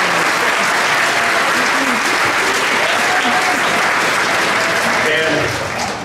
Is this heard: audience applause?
yes